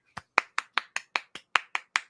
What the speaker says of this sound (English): It's a nice little respectful golf clap.